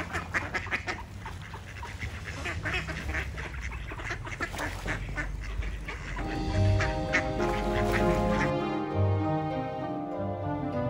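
A flock of ducks on a river quacking and honking steadily nearby, busy overlapping calls with some lower goose-like honks toward the end.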